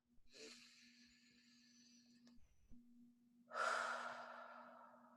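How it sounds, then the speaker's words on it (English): A person takes a deep breath, a slow audible inhale followed by a longer, louder exhale, close and quiet over a faint steady hum. "Deep breath."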